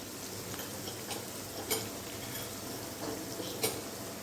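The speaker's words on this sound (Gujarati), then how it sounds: "ડુંગળીને આપણે થોડીક વાર સાતળી લેવાની છે" Coarsely chopped onions with salt sauté in a pan for a yellow moong dal and fenugreek dish, giving a quiet, steady sizzle broken by a few light clinks of a utensil against the pan.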